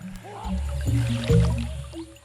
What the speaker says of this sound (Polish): chodźmy jeszcze się napijmy wody, bo mogą oni być czasem spragnieni